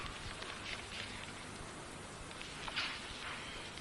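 Rain falling steadily in a 1970s Coronation Street scene, a soft continuous hiss of drops pattering on a surface with faint brief splashes, fairly quiet and without talk.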